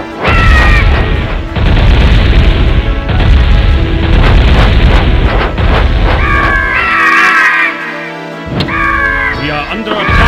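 Loud battle explosions and crashing impacts from the strategy game WarCraft II, repeated booms and thuds packed densely under game unit voices and chimes, continuous throughout.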